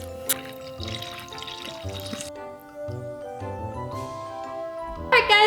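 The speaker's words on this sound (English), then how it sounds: "We're gonna add some water into this clear slime" Water pours into clear slime glue as a trickling, splashy stream in uneven bursts, with tonal ringing from the container throughout and a brighter clatter near the end.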